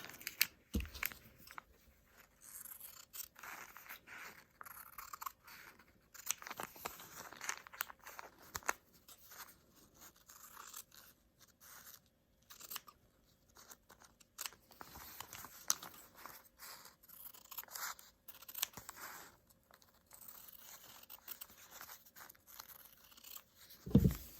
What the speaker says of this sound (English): I'm going to cut that or sorry, pin first and then cut using my scissors